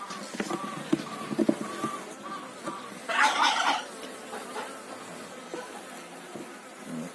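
A steady low hum of many honeybees buzzing close by on hive frames, with a brief louder rustle in the middle.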